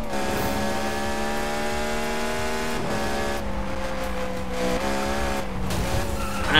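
A car engine in Need for Speed (2015), a Beck Kustoms F132 hot rod, whines at high revs while tires squeal in long sustained skids, the pitch shifting as the car drifts.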